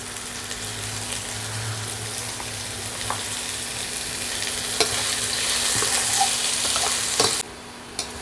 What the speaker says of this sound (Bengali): গাজরটা একটু ভাজা ভাজা হয়েছে